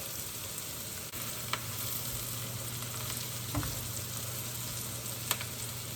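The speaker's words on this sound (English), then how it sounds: "The butter's almost melted." About half a stick of butter melting in a pan for a frittata, giving a soft, even sizzle with faint popping ticks scattered through it and no talking.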